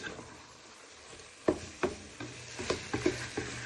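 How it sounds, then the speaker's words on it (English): A wooden spoon stirs sweet and sour pork sauce and noodles in a pan on medium-low heat, giving a string of soft scraping knocks and clicks over a faint sizzle, close and fairly quiet with no talk. "You just give all that a good stir in."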